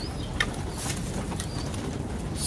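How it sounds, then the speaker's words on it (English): Young pigeons feed among a whole flock, with soft coos and fluttering over a steady outdoor background, the birds close by and fairly quiet. "let the young birds get a taste of eating with a whole bunch of birds now"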